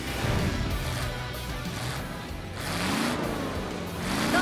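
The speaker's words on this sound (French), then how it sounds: "Regardez ces moteurs prêts à bondir sur la ligne de départ." Race car engines rev together at a starting line, a steady roar of several motors swelling and rising in pitch, loud and continuous with no speech.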